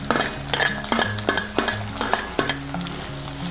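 Sliced onions hit a hot pan of spluttering mustard seeds for chicken fry and are stirred over high flame, a loud steady sizzle punctuated by regular scraping and clinks of a spoon against the pan.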